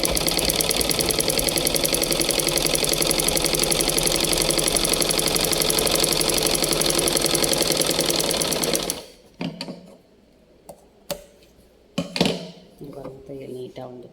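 A sewing machine stitches a rough seam through a piece of cloth during a tailoring lesson. The loud, continuous whirring runs for about nine seconds, then cuts off into a few handling clicks and knocks.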